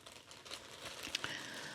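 Thin plastic bag crinkling in close, quiet hand-care handling beside a paraffin wax bath, with soft irregular rustles and a couple of brighter crackles near the end.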